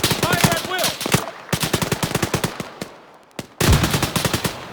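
Automatic gunfire in a video game comes in loud, close, rapid bursts: a long volley, a second stretch of shots, then a sharp resumed burst after a brief lull.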